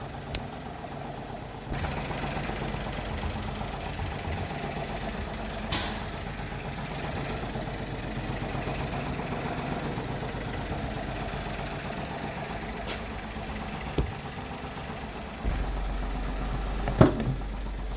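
A Smart Fortwo MHD engine with a B1430 fault code idles steadily for a long stretch, a low continuous rumble with a few brief knocks and clunks near the end.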